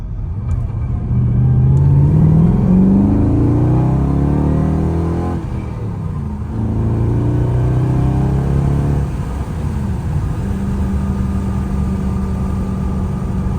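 A Mercedes R129 SL500 5.0 M119 V8 with an AMG muffler revs hard in second gear at full throttle, climbing in pitch twice, a deep throaty roar, loud and close, then settles into a steady drone.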